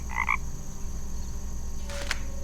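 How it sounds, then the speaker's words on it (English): Two quick frog croaks ring out near the start in the Night of the Rabbit video game, followed by a brief bright chime-like effect later, all over a steady ambient game background. "Is that a frog I hear?"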